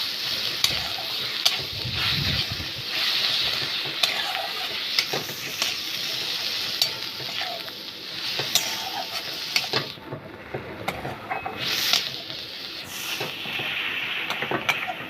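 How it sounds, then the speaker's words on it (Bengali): Mustard leaves frying in hot oil with salt and turmeric, a continuous close sizzle with frequent spatula scrapes and taps as they are turned, briefly quieter and hissier near the end. "এবারে আমি তেলে ভালো করে পাতাটাকে ভেজে নেব"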